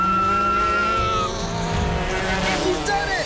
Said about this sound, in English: She's throwing the car around these corners.